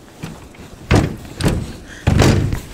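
A hotel room door is handled and opened, giving three separate thuds and clunks spaced about half a second to a second apart, moderately loud and close, with no talking.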